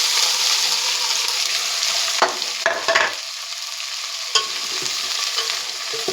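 Okra stirred and fried in oil for bendakaya masala curry, a loud continuous sizzle up close, broken by a few scraping stirs and a short dip in the frying hiss.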